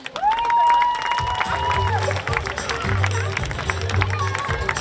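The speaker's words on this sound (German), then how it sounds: "Applaus für die Roswitha und den Erik." Applause and cheering from an audience at a horse show in Wagram, a busy crowd sound with clapping, whistles and an announcer talking over it.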